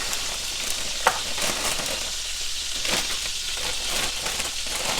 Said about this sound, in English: the pork chops have only been cooking maybe about a minute